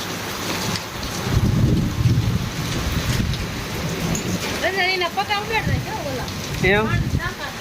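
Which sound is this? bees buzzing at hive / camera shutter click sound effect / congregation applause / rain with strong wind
rain with strong wind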